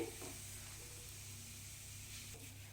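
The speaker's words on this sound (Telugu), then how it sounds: "డ్రై ఫ్రూట్స్ ఫ్రై చేసుకున్న నెయ్యిలోనే రవ్వను వేసుకోవాలి" Semolina frying in ghee left from frying dry fruits, a faint, steady, soft sizzle that runs through the whole clip with a slight rustle of stirring.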